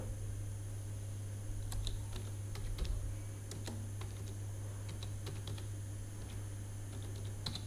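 Brisk typing of a terminal command on a computer keyboard on an Ubuntu 24.04 system, with a steady stream of close, irregular key clicks and a few louder keystrokes over a constant low hum.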